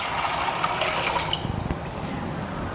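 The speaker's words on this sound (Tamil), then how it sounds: "போட்டு நம்ம அதில் தண்ணி வேணுங்கிற அளவு ஊற்றி வச்சுக்கலாங்க." Tap water pours into a bowl in a home kitchen to cook shell pasta, a continuous splashing rush that shifts slightly in tone as the bowl fills, heard close up.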